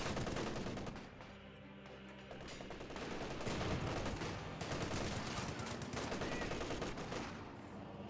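Gunfire in the video game Company of Heroes 2, dense bursts of machine-gun and rifle shots rattling continuously and loudly, layered into a heavy battlefield barrage with a brief lull near the start.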